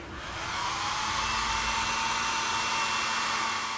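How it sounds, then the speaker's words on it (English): A blow dryer blows steadily and loudly up close while warming carpet glue on a boat compartment lid, holding one constant whooshing whir. "just put a blow dryer on for a couple minutes and it'll be good to go pretty quick"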